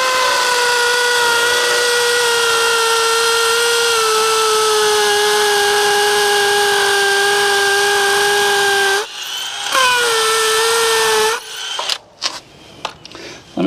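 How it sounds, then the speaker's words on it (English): A power drill re-drills stripped holes to bolt down an outdoor HVAC condenser, its motor whining steadily for about nine seconds, pausing briefly, then running again before stopping amid a few sharp clattering knocks. "the solution to the stripped holes is just to re-drill"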